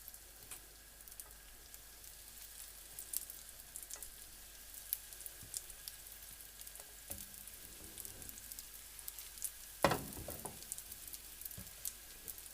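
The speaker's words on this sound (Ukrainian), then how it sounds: "Тепер на попередньо розігріту сковорідку викладаємо наші заготовки." Soft, steady sizzling of bread slices frying in a preheated pan, fairly quiet and uninterrupted, with a brief clatter near the end.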